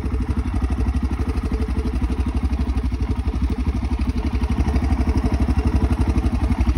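A motorcycle engine idles steadily up close, a rapid low throbbing rumble with a slight rise in loudness near the end.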